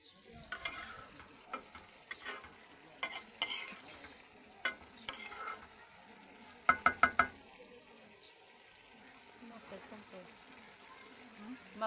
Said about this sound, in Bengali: বরাবরের মতো আজকে আম্মু লাউয়ের ছুলকা দিয়ে আলু ভাজি করতেছে